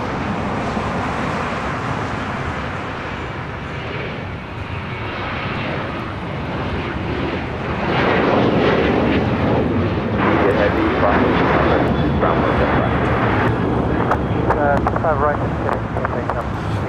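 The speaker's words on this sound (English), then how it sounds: "That is American Airlines 2674 taking off to Indianapolis on a 737-800." An American Airlines Boeing 737-800 takes off from LAX with a loud, broad jet roar that swells and stays strong, with wind buffeting the microphone and voices talking underneath.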